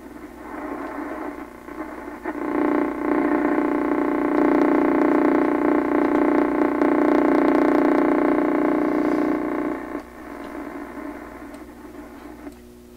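A steady, loud hum of AM static from a 1928 RCA Victor Model 28V radio and a faint station near 650 swells in, holds for several seconds, then drops back to quieter hiss.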